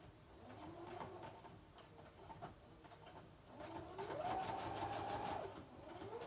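A sewing machine stitches a zig zag pocket onto fabric with a steady whirring hum, slow at first and then speeding up with a rising tone, close and continuous apart from brief pauses.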